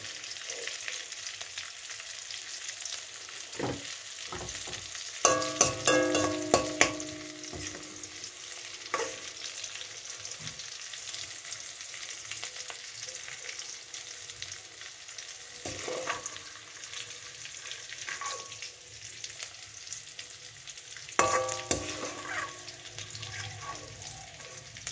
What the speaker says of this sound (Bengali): এই তেলটারই এক পাশে একটু বেরেস্তা ভাজতে দিয়েছি